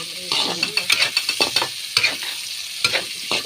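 Garlic and onion sautéing in oil for adobong sitaw, ampalaya and okra, close crackling sizzle broken by rapid rhythmic scraping of a spatula against the pan, loud and without talk.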